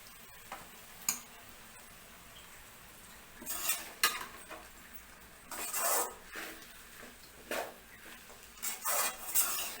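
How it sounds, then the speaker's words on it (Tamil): Idiyappam made from ragi and wheat flour is stirred into fried onions in a pan, with irregular bursts of scraping and clinking as the spoon works through, quiet pauses between, and no talking. "நம்ம இந்த செஞ்சு வச்ச இடியாப்பத்தை போட்டு கிளறிடலாம்."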